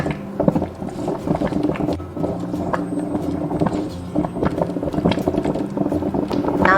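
A pot of pork rib soup with snail meat and jinxianlian simmers on the stove, a continuous bubbling and gurgling with uneven pops, close and moderately loud, with no talking.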